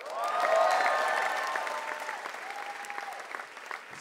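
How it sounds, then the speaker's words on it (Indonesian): Applause from a stand-up comedy audience swells quickly and then tapers, with a tonal cheer or music layer riding over the steady clapping. "Luar biasa, tepuk tangan."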